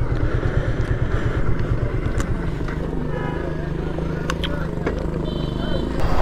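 A Honda motorcycle engine hums steadily at evening on Inani Beach, Cox's Bazar, a continuous moderate drone with occasional clicks, heard under nearby talk.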